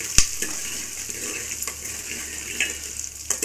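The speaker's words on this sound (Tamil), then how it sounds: "இதை வந்து நல்லா மிக்ஸ் பண்ணிப்போங்க." Dried red chillies, onion and curry leaves are stirred in a pan, giving soft sizzling with light scraping taps of a spoon at irregular intervals.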